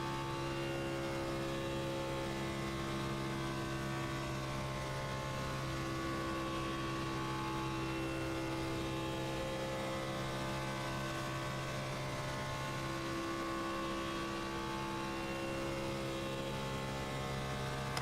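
A race car engine drones in the iRacing video game at a WINSTEL 400 qualifying lap, holding a steady high-revving tone near 8,200 RPM down a straightaway, with a slight pitch shift late and no voices.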